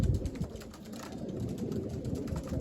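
Racing pigeons coo softly in a loft, low murmuring calls blending into a steady background hum, faint and continuous, with no voices.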